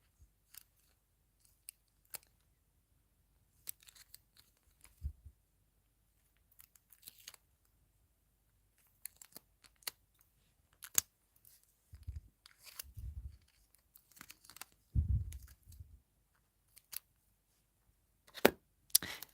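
Scissors cutting collage paper for a sketchbook spread, sounding as sparse, crisp snips and slices in short bursts with quiet pauses between, plus occasional soft paper rustles and thumps.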